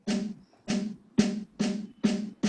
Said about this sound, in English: That is drum sound.